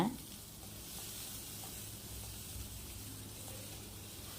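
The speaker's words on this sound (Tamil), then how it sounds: "ரெண்டு பூண்டு அதையும் சேர்த்து இதோடு சேர்த்து நல்லா கிளறி விட்டுருங்க" Shallots, tomato and garlic fry in a pan for an anchovy curry, giving a steady, even sizzle with faint stirring scrapes throughout, fairly quiet and close.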